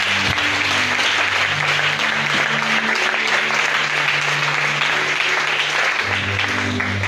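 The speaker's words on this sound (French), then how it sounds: "Acclame Jésus" Congregation applauding during an Easter evening church service, a dense, steady wash of clapping that fills the whole stretch at high level, with sustained music or keyboard tones running underneath.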